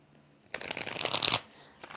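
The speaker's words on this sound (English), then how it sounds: "4 shuffles for Shimmy Cocoa Puff." Tarot cards shuffled in a quick riffling burst lasting under a second, loud and close, with quiet before and after.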